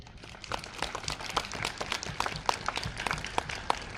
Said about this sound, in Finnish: Hieno juttu ja perinteiset aplodit.